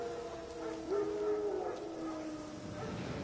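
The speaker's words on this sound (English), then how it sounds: "No. Wild dogs. Yes. More dangerous than wolves." Wild dogs howl in a video game, a drawn-out wavering howl with a rising tone near the middle, set against faint ambient game sound at moderate distance.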